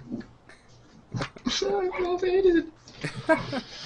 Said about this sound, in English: My dog is so loud.